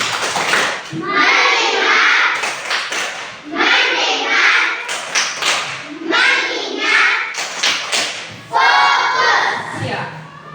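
Children in an Indonesian classroom clap a rhythmic tepuk fokus routine in several loud bursts of patterned claps, with chanting voices between them.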